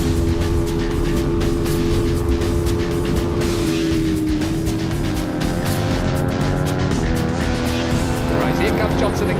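Racing motorcycles at the North West 200 road race scream past one after another, with loud high-revving engine notes rising and falling close by under excited commentary.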